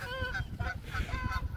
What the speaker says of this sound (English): where are the geese? There they are.